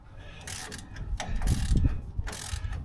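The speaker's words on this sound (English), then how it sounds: "a 12mm socket goes on well enough I can get them undone" A socket wrench ratchets on 12mm bolts on a Land Rover Series 3 during a brake overhaul, with bursts of close, loud clicking and metallic rasping.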